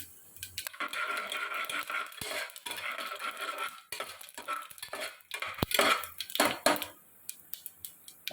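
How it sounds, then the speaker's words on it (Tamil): Mustard seeds spluttering in hot oil in a pan for cooker sambar, with cumin, dried red chillies and a small piece of asafoetida added, sharp irregular pops and clatters over a rattly background, close but fairly quiet. "கடுகு வெடிச்சுட்டுருக்கு"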